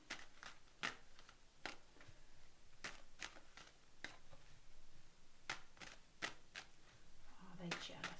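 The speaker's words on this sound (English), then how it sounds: "I'm just going to shuffle again" Tarot cards being shuffled by hand, quiet crisp flicks and riffling snaps in irregular bursts, close and soft against a hushed room.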